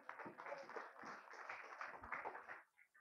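A church congregation claps during a sermon, a dense, even patter of many hands that runs steadily for a few seconds, then breaks off into a few scattered claps.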